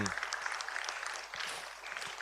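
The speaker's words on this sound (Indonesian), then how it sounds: "berikan tepuk tangan" Applause for class 4B at a Ramadan religious school gathering, a dense crackle of many hands clapping fairly close and steady for about two seconds, with some speech mixed in.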